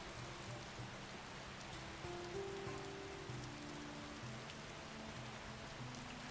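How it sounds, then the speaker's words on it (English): Steady rain falls in the video game Skyrim, a continuous soft patter of drops across the whole stretch with a low background drone, no voices. "I'm out in the rain, so I became well hydrated"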